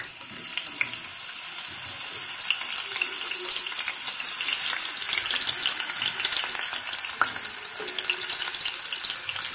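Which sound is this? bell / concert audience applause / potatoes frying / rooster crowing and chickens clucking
potatoes frying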